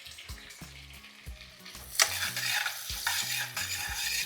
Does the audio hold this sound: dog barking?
no